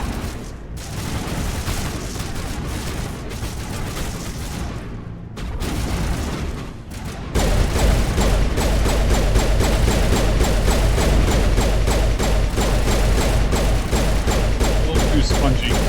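Rapid, steady gunfire from the video game Mass Effect, continuous staccato shots that grow louder and heavier partway through, with a low rumble underneath and brief gaps between bursts.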